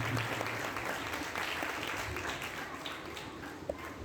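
A church congregation applauds during a feast celebration for St. Anthony of Padua, a steady wash of many hands clapping that fills the whole stretch at moderate volume without a break.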